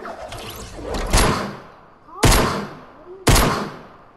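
Gunshots fired at an ATK kart in Fortnite, three sharp loud cracks spaced about a second apart, each trailing off with a reverberant tail, with faint talking underneath.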